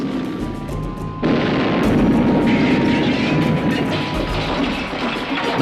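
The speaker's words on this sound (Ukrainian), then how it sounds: "його штаб атакували два німецьких винищувачі" Two German fighter planes attack a headquarters in World War II, heard as a loud, continuous roaring engine rush that swells suddenly after a quieter opening and stays dense and heavy throughout, with no speech.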